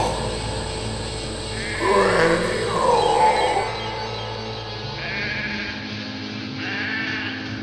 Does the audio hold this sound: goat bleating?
yes